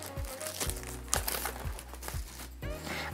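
Crinkling plastic packaging while unboxing a 13-inch M1 MacBook Pro in space gray, a close, steady rustle with a few sharper crackles over about three seconds.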